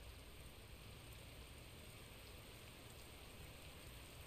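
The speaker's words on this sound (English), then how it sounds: "The long and gentle hiss of rainfall touching down." Gentle rainfall from the Tsukihime visual novel: a soft, steady broadband hiss of rain falling on a surface, even and continuous throughout with no voices.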